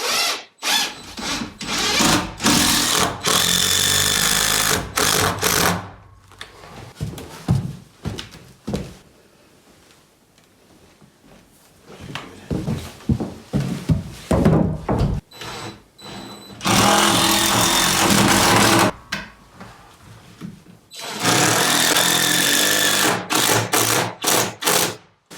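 A power drill drives structural screws into metal hinges on an off-grid cabin in deep cold, buzzing loudly in long runs of several seconds separated by quieter stretches of clicks and handling noise.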